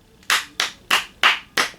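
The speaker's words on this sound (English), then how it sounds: "I gotta give it all 5 claps" Five sharp hand claps in an even, steady rhythm, close and loud with no other sound.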